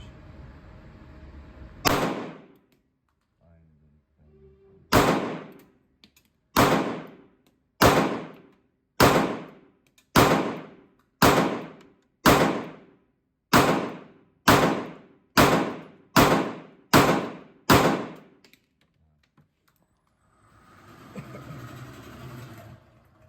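A CZ Shadow 2 Compact pistol fires about fourteen loud, sharp shots at a shooting range. The first few are spaced out, then the shots come at a steady pace of roughly one per second.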